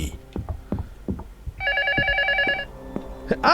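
A telephone rings in the horror video game LUTO: one short burst of bright, warbling electronic ringing in the middle, surrounded by scattered knocks and a voice speaking.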